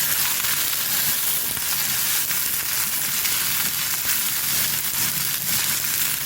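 Onions and garlic fry in sesame oil, giving a dense, even sizzle that fills the clip with a constant hiss and faint crackling, close and steady with no voices.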